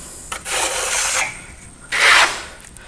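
A trowel spreads and compresses a thin layer of FirmoLux Piatto plaster finish, producing two smooth, close scraping sweeps with a brief pause between them and no talk.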